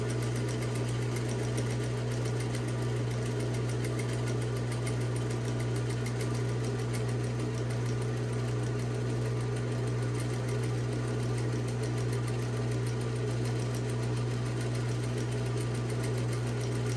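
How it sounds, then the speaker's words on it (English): Sewing machine top stitching a tote bag strap, a steady close whirring hum with fast even needle rhythm running continuously at a constant speed. "I'm going to go ahead and top stitch right here about 1/8 inch away from the edge"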